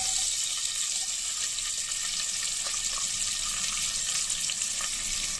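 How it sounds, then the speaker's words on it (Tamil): Onions for vegetable biryani fry in hot oil in a pan, a steady close sizzle with faint crackles running evenly throughout, no voices. "Now we add some onions."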